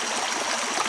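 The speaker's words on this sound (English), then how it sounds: "You see there's plenty of water flowing in there." Creek water flows beneath a bridge after a couple of days of rain, giving a brief, steady, broad rushing sound that fills the space without pause or voices.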